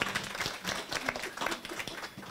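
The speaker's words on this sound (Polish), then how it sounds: "prosimy o brawa dla prelegentów" Scattered audience applause for conference speakers at a housing innovation conference, a steady patter of hand claps at moderate distance with faint background sound underneath.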